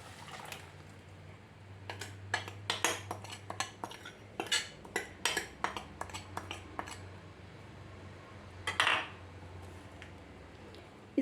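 Metal spoon clinks and scrapes against a pot while ground coconut paste is mixed into pineapple pulissery, a run of sharp, fairly close taps in irregular rhythm over a low background hum.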